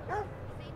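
In the video game Watch Dogs 2, a dog gives a single close yip or bark, followed by a quieter whimpering trail.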